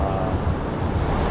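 Strong ocean waves roar at a surfing competition, a dense, loud, continuous wash of surf with wind buffeting the microphone.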